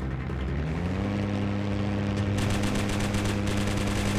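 Hurricane fighter's machine guns rattling in a WWII aerial-combat flight game, rapid bursts layered over a steady engine drone, with the firing growing denser in the second half.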